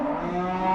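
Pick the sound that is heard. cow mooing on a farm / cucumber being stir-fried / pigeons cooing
cow mooing on a farm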